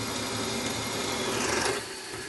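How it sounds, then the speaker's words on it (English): A cobalt drill bit bores a hole through metal at about 700 RPM, a steady close whirring grind under constant pressure that eases slightly near the end. "Nice cobalt drill. Just gonna pop a hole through there."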